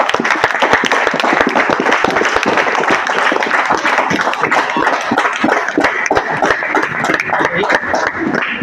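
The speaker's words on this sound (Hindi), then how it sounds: "जोरदार तालियां बजाते हैं।" Dense, loud clapping from a classroom audience during a physics collision experiment lesson, steady and continuous throughout with many overlapping hand claps.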